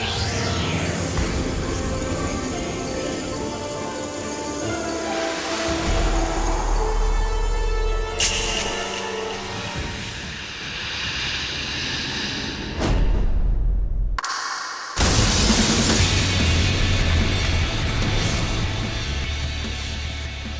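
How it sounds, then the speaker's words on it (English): Ice shattering from Shiva's Diamond Dust in a Final Fantasy game, a loud crash and scatter of fragments within a dense, continuous stretch of game effects and music, with a brief drop to near silence before the sound surges back. "The ice shatters, this frees all the players."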